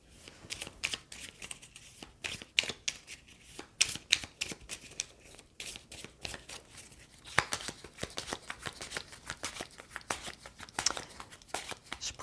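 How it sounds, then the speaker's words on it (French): A deck of cards is shuffled during a solo tabletop game of Architects of the West Kingdom, a run of quick, close papery riffles and flicks in irregular bursts, fairly quiet. "quand son paquet est vide, on le remélange"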